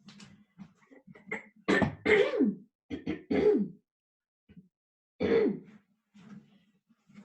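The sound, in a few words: throat clearing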